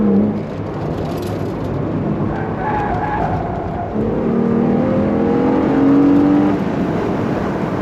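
A V6 project car revs on the Llandow Circuit race track, its engine note rising through the gears as a steady, fairly close drone with no talk.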